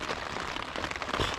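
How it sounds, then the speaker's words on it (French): Steady rain at a campsite on a grey day along the northern French coast, a dense even patter close by on tents and ground with no voices. "ça pleut, ça n'arrête pas."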